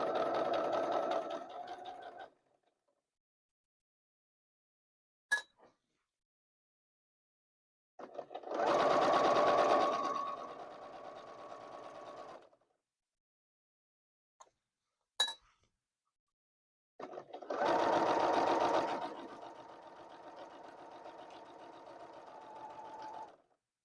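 A sewing machine stitching a fabric cover for a stand mixer runs in three separate bursts of steady mechanical whirring, with quiet gaps between them and a couple of sharp metallic clinks from handling.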